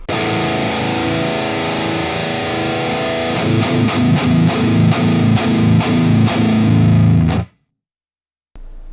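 High-gain electric guitar through a Neural DSP Fortin NTS amp plugin, loud and heavily distorted, with sustained chugging and then a run of rhythmic palm-muted stabs before it cuts off abruptly into silence.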